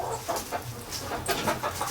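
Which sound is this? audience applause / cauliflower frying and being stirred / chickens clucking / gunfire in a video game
chickens clucking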